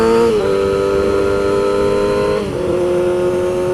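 Motorcycle engine droning steadily under throttle while riding, with two quick clutchless gear shifts where the pitch dips and settles lower; loud and close, no talk.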